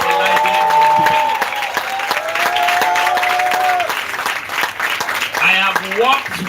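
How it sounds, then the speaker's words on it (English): An event audience applauds a speaker with sustained clapping, with a voice speaking over the applause throughout. "Please, let me give a very resounding applause for Dr. Laide Okubena."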